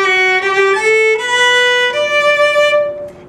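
A solo violin plays measure 14 of "Frog in a Tree", a few sustained bowed notes stepping through the short phrase, close and clear with no talking.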